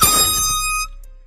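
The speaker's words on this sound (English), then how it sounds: "The man got the air horn." A loud, close air horn blast holds a steady harsh tone for most of a second, then cuts off abruptly, leaving brief quiet.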